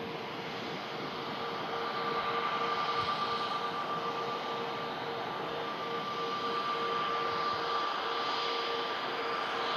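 An Egypt Air Airbus A321neo taxiing at Manchester Airport, a steady, fairly distant jet engine whine and broad rushing hum that holds level throughout, with no voices.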